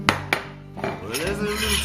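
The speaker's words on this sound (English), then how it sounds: "what I'm going to do is I'm going to mix those two together" Metal utensil clinks and scrapes against a bowl while brown sugar and flour are stirred together for homemade relish, two sharp taps up front then a steady softer scraping swirl, close and alone.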